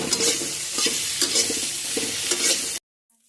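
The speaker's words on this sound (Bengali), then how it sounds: "এগুলোকে কিন্তু ভালো করে ভেজে নিতে হবে।" Potatoes and eggplant frying in a pan, sizzling steadily up close with several stirring scrapes, before the sound cuts off abruptly.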